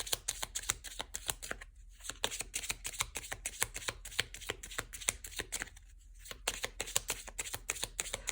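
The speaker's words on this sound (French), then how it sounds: "On va tirer une petite carte là." Tarot cards are shuffled close up in quick, crisp riffling flutters, broken by two brief pauses and ending as a card is drawn, with no voices.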